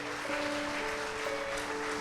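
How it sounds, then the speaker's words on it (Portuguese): A church congregation applauds softly and continuously, a faint, even clatter of hands heard from a distance, with sustained keyboard tones holding underneath. "Vamos aplaudir a vida deles também,"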